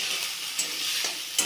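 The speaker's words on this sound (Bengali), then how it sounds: "খুন্তি দিয়ে নাড়াচাড়া করে দেবেন।" Potatoes for aloo dum frying in a pan and turned with a metal spatula: a bright, steady hiss of frying oil with a few short scraping strokes, close up and with no voices.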